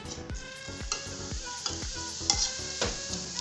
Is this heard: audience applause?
no